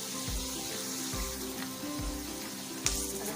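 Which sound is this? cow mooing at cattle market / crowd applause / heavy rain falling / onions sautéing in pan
onions sautéing in pan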